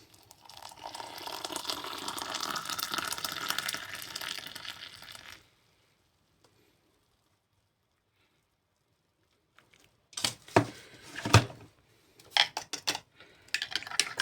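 Hot water streams steadily for several seconds, then stops; after a pause come sharp clinks and knocks of utensils against a cup while making saffron tea.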